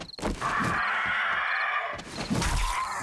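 Crows caw in the 7 Days to Die video game, harsh repeated calls rising over a steady background hiss, with a few sharp thuds near the start and end, fairly close and clear with no talk.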